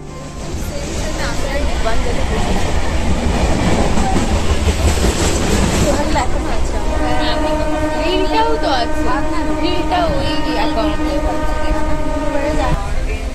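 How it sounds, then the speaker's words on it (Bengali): A train heading toward Howrah station rumbles loudly with steady rail clatter, then a sustained horn sounds over the running noise in the second half. "ট্রেন নিয়ে সোজা হাওড়া স্টেশন"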